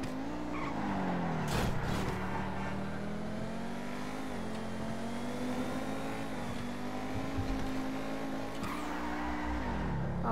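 Video game car, the Nero Custom, drifting with sustained tire squeal over a steady revving engine, loud and continuous for about ten seconds.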